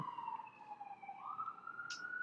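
Emergency sirens wail at a distance, their tones sliding down and then rising again as the vehicles pass, with no talking.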